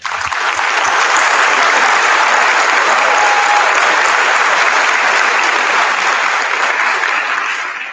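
An audience at an 8th grade move-up ceremony claps for the class, a dense, steady wash of clapping that holds at full strength throughout and tapers slightly at the end.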